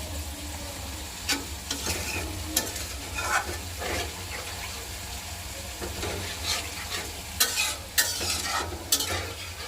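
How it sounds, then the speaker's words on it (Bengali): Spices sauté with a splash of water in a pan, sizzling quietly beneath repeated scraping stir strokes that come in uneven bursts, close up and with no one speaking. "মশলা কষানোর জন্য একটু পানি দিয়ে দিলাম"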